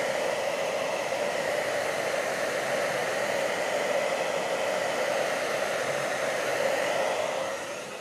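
A hair dryer blows steadily up close to dry white paint on a decorated bottle, its loud even whoosh continuing unbroken for several seconds before easing slightly at the end.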